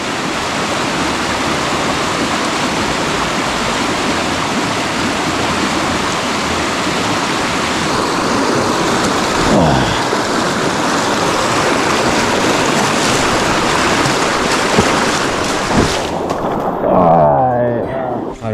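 A stream rushes along a wooded trail at night with a loud, steady roar of water close by for the whole stretch, and a few faint voice sounds come near the end.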